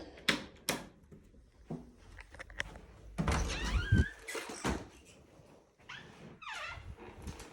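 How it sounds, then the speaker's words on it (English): A bedroom door during a move-in inventory inspection swings open and shut, giving several thunks and a creaky, rattling swing with scattered knocks and handling sounds, close and moderately loud with brief gaps between them. "behind the door open and close is fine"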